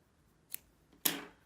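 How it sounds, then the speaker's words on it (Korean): Two quick snips of scissors cutting yarn during crochet work on a mesh bottle cover, a short faint click followed by a louder, crisper cut, close by in a quiet room. "가위로 먼저 커트를 먼저 해줘요"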